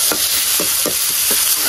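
Food being stirred and fried in a pan, with a steady bright sizzle running throughout and four regular scraping stirs spaced about half a second apart, close and loud with no talking.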